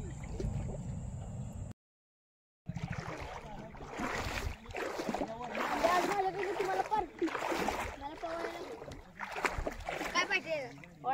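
Children swimming and playing in a clear river make repeated splashes in the water while voices talk and call out nearby, after a brief moment of silence.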